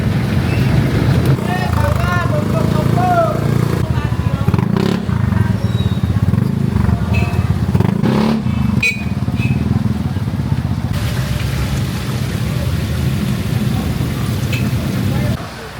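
Motorcycles rumble steadily through rainy Manila traffic for the whole stretch, close and loud, with clattering road noise and occasional engine surges, and a voice speaks briefly now and then.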